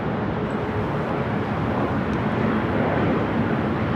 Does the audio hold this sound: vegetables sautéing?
no